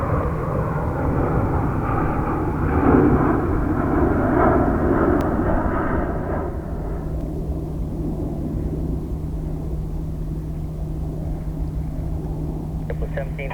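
An airliner rolls for takeoff on runway 22 right at JFK, a loud broad jet roar that swells for the first several seconds and then eases into a steadier, fainter rumble, with a voice talking over it.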